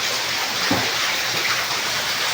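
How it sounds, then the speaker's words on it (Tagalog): Floodwater rushes steadily into a house, a continuous loud wash of flowing water with no pause, close by and without speech. "Ang lakas ng pasok ng tubig."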